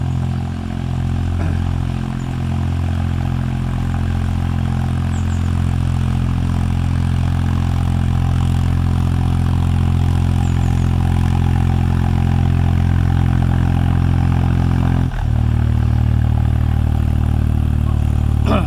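A steady, droning motorboat engine runs close by throughout as a boat passes on the River Thames, a low continuous rumble with a brief dip near the end.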